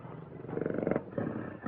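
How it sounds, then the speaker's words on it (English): A tiger roars in two long, loud rumbling bursts, a growling snarl following the first and a brief growl near the end, close by with no talk over it. "Satan is the only tiger in all Africa"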